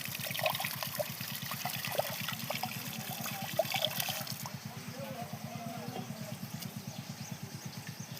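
Leaves are rinsed by hand in a vessel of water while preparing a Telugu curry, with soft trickling and splashing close by over a low steady hum, growing quieter in the second half.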